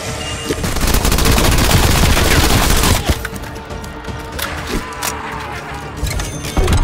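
Rapid submachine-gun bursts from the video game Call of Duty Black Ops Cold War rattle loud and close, with a dense continuous stream of shots followed by shorter spaced bursts and sharp single cracks.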